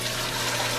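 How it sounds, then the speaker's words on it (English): Chicken stock being poured from a container back into a pan, a brief steady liquid rush close by. "And we're going to pour this back in the pan"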